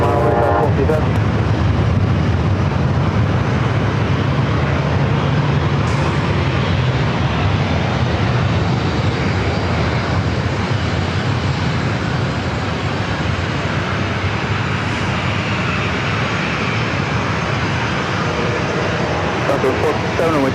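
A Southwest airliner taking off at San Diego airport produces a steady, loud, broadband jet roar that holds throughout without letting up.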